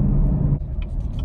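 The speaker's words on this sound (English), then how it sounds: "I like how that exhaust sound too." Exhaust of a 2018 Chevrolet Camaro 2SS V8 rumbling steadily from inside the car, a deep low drone that drops away partway through into quieter idle with faint clicks.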